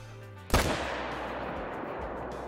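A single rifle shot fired at a whitetail buck in a hunting video game, a sharp loud crack with a long rolling echo that fades out over the next two seconds.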